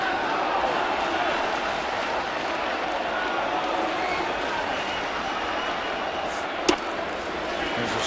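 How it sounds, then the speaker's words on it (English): Large baseball stadium crowd at a Toronto Blue Jays home game against the New York Mets, a steady broad roar of murmuring and cheering that holds evenly throughout, with one sharp knock near the end. "Great crowd on hand."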